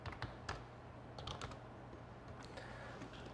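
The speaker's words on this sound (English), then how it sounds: "I typed in a different thing" Quick bursts of typing on a computer keyboard, soft, close clicks in irregular clusters over a faint steady hum, with no talking.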